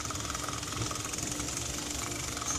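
A Simple Taste handheld milk frother whisks creamer with a steady, continuous motorized buzz, close and constant throughout.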